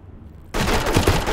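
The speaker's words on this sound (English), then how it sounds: "Oh shit, I'm getting shot at." Gunfire erupts suddenly as someone comes under fire during a SWAT-style shootout, a loud dense burst of shots after a quiet moment, close and harsh.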